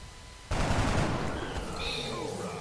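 Gunfire erupts in XCOM: Enemy Unknown as a sudden loud burst that holds as a dense, noisy roar and then slowly fades, with faint electronic tones over it.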